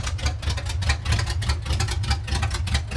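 A 1975 K10 truck engine runs with no exhaust fitted, giving a loud, raw, close rumble with rapid rhythmic pulsing and sharp crackling bursts throughout.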